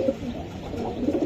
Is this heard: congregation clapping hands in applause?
no